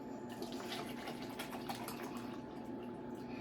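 Water streams steadily into a container, a continuous rushing pour with no pauses, close and fairly loud.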